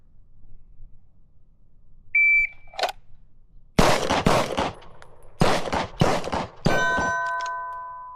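Pistol shots ring off steel targets in a transition drill, a quick series of sharp cracks, each followed by a metallic clang, coming in two close groups after a timer beep.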